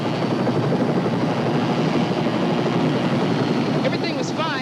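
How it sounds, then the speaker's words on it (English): Army helicopter arriving over a whitewater river rescue on the Zambezi, a steady loud rotor and engine roar filling the whole stretch with continuous churning noise. "and the Army helicopter arrived."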